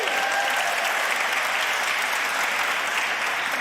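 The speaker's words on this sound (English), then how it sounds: "let's clap for Trey." Steady, dense audience clapping fills the room at an online awards show, a continuous, even wash of applause from a crowd with no break.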